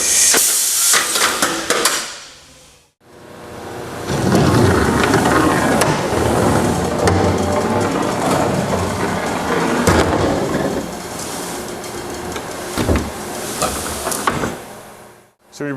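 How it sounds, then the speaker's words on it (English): A Norfield 4100AC door assembly center releases its clamps when the eject lever is hit, giving a loud, sustained pneumatic hiss and mechanical rattling as the door pops up, ending with a sharp clunk. "you hit the eject lever. That cancels everything and then pops the door up to exit."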